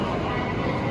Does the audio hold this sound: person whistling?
no